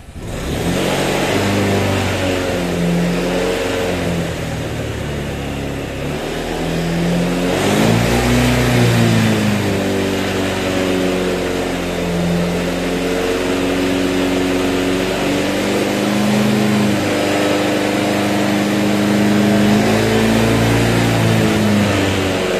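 A motorcycle engine revs up and down repeatedly, loud and close, its pitch rising and falling in waves with a steady rumbling idle beneath.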